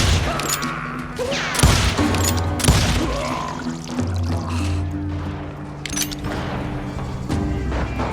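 Gunfire during a shootout in Call of Juarez: Gunslinger, with loud sharp shots and booming blasts that ring out irregularly over a busy game soundtrack.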